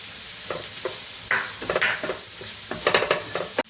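Fennel seeds, pepper powder, turmeric and garam masala are sautéed for chicken curry, with a soft sizzle under repeated scraping stirs and light clinks of a spoon against the pan.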